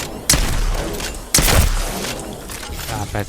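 Apex Legends weapon fire: two sharp, loud gunshots land about a second apart, each followed by a short decaying tail, with quieter game sound and a voice talking between them.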